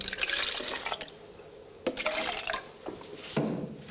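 Water being poured into a vessel before mixing with gypsum plaster for moulded decorative pieces, heard as close splashing and trickling in short bursts separated by pauses, with no talk.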